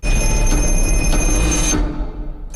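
An old-fashioned telephone bell rings loudly and continuously for nearly two seconds, then cuts off into quieter background sound.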